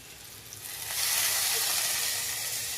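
Grated ginger hits vegetables already frying in a pan, and the steady sizzle swells sharply about a second in and then holds loud and close with no talk.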